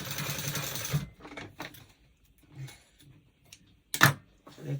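A domestic sewing machine stitches seams on a basic bodice in one steady, close whirring run at the start, followed by quiet handling and a second short burst of stitching near the end.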